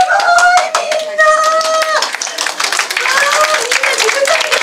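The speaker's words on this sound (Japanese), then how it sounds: "みんな自分だけで拍手しよう。" Children at a talk show clap together in a quick, busy burst that fills the space, with high-pitched voices calling out over the applause.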